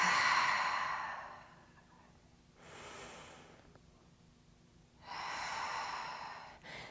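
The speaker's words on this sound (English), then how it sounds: "I'm gonna inhale and exhale" A slow, deep breath during a standing calf stretch in a barre workout: a long airy exhale, a pause, a quieter inhale, then another strong exhale, close and fairly soft, with no talking.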